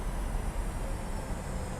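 Thrust reversers of a PMDG 737-900ER in Microsoft Flight Simulator after landing: a loud, steady, broadband engine roar that holds unchanged throughout, with no voices.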